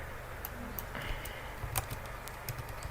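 Quiet, close typing on a computer keyboard, a loose run of light key clicks with no voices.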